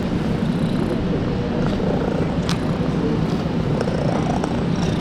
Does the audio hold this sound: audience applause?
no